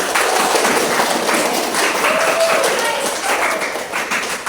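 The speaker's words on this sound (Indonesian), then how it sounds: "nah kasih tepuk tangan untuk pokok ini" Classroom of students clapping their hands in a lesson, a brisk burst of scattered claps alongside chatter and voices.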